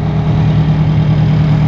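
Two Detroit Diesel V8 engines, a 12-liter and a 9-liter, idling together in old fire engines, a loud, steady low diesel drone with an even throb and no talk.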